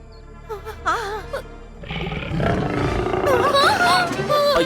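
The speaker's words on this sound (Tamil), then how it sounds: "புலியோட உருமல் சத்தம் ரொம்ப அதிகமா இருக்கு பக்கத்துல தான் இருக்கு போல இருக்கு" A tiger roars nearby at night, first in a few short wavering growls and then in a long, loud, rising roar that swells and holds to the end.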